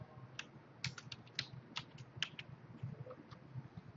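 Quick bursts of typing on a computer keyboard, light close key clicks in uneven runs with short pauses, no voices.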